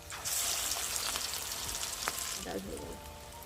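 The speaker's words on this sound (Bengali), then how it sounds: "দেখো আমি চারটে বড়া দিয়ে দিলাম" Pakoras made from Burmese greens fry in hot mustard oil with a loud, dense crackling sizzle that continues throughout, with faint bubbling and small spatters.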